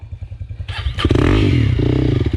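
Honda CRF300L motorcycle engine labouring up a hill in first gear: a loud, close, throaty drone that surges as the throttle opens and holds a steady, strained roar with some mechanical clatter.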